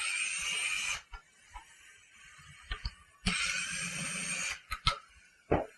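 A driver backs off two T20 screws during a driver-side bottom install on a Ford Expedition or Lincoln Navigator: two long whirring bursts close up, separated and followed by a few short clicks and knocks.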